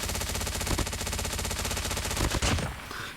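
Rapid automatic fire from an MSMC submachine gun in the mobile shooter COD Mobile, a dense continuous burst of loud, close gunshots that breaks off briefly near the end before a few more rounds.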